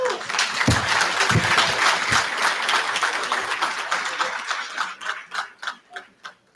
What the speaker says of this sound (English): One more round of applause for Senator Schumer.